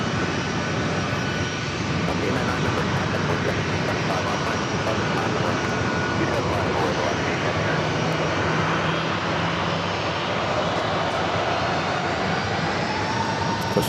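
Alaska Airlines Boeing 737-800 jet, flight 899 bound for Kona at San Diego airport, giving off a steady broadband engine roar that holds loud and even for the whole stretch, with no talking over it.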